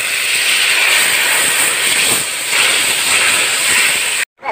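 Water poured into a hot pan of fried potatoes and spice masala for a Bengali crab curry gives a loud, steady hissing rush of steam lasting several seconds, then cuts off abruptly near the end.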